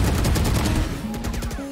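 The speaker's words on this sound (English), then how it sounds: "the fuck is shooting me through the wall?" Gunfire coming through a wall in the VALORANT video game: rapid, loud bursts of shots in quick succession, followed by sharp clicking weapon and game effects.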